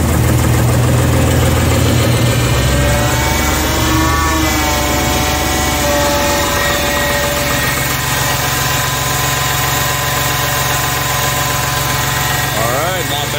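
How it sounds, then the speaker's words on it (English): A Deutz D4506 diesel engine cranks and runs at about 10°F in a cold start, a loud, steady low rumble with a shift in tone around two seconds that then holds throughout. "and we'll see if it starts."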